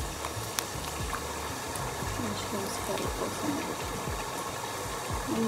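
Salted water bubbles and simmers in a pot for cooking mushrooms, a soft continuous burble of popping bubbles with faint background noise.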